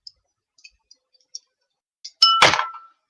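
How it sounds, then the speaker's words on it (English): A small pencil dropped onto a glass gives a sharp clink and brief ringing clatter, loud and close after a few faint taps, with no talk. "you probably just had me drop it and hit a glass"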